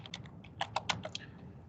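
Quick keystrokes on a computer keyboard while entering text into an Excel spreadsheet, a short, close burst of clicky taps that bunch together near the middle, with no voice.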